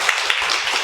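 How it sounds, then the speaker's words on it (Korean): A congregation clapping during a Korean church worship service, a brief dense burst of applause at close range, steady and fairly loud. "우리 박수로 하나님께 한번 영광을 드리겠습니다"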